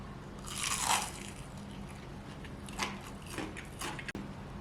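Loud crunchy bites into cornstarch-coated fried chicken, a big crunch up front and a few smaller crackly chews after, close to the mic, no talking.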